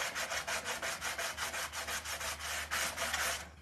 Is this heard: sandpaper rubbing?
yes